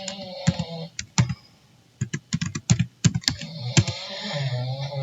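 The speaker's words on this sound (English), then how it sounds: "let's type this." Password being typed on a computer keyboard, heard as bursts of clicking keystrokes in irregular rhythm, close and fairly loud, with pauses between runs and faint background hiss.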